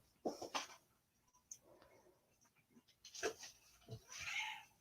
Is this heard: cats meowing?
yes